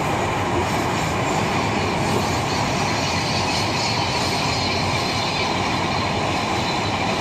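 A train crosses the Padma Bridge, heard from inside the carriage as a loud, unbroken rumble and roar of wheels on rail with a faint metallic squeal, steady for the whole stretch.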